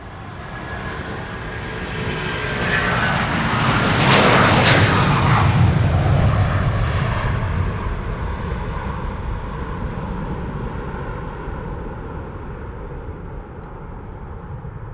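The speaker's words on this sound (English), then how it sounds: "So this is Air China Cargo flight 3160 going to Chengdu in China. A330-200." An Air China Cargo Airbus A330-200 takes off from Amsterdam Schiphol with a loud, broad jet roar that builds to a peak partway through, then slowly fades while the rumble lingers.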